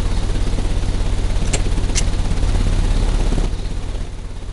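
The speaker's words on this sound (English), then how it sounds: "The engine has started." A steady, loud engine drone runs throughout in a Sherlock Holmes: Crimes & Punishments game, a constant low rumble with a broadband hiss and two brief sharp clicks midway, easing slightly near the end.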